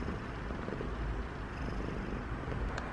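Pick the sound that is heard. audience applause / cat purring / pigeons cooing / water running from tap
cat purring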